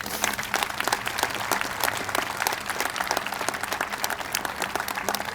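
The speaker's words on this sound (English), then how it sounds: "Would you please give a little more a rounding round of applause to Judge Steele" Sustained audience applause fills a courthouse grand opening and ribbon-cutting ceremony in Clackamas County, Oregon, a dense steady patter of many hands clapping at even loudness throughout.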